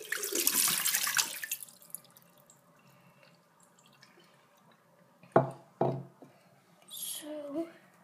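Dirty water dumped out of a pet's water bowl makes a brief splashing gush at the start, then fades into faint drips and a quiet room, followed by a couple of sharp knocks and a voice speaking.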